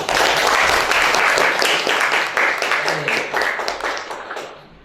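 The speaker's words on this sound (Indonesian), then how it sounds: "Tepuk tangan untuk semuanya." At the close of a school student-council candidates' event, the audience claps for everyone, a loud burst of crowd applause with distinct individual claps that thins out and dies away near the end.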